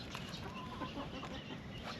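Several hens cluck softly and intermittently in a backyard garden mini-farm over a dense outdoor background hiss, close by but low in level, no talking.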